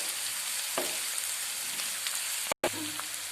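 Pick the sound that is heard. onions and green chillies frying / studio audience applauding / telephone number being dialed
onions and green chillies frying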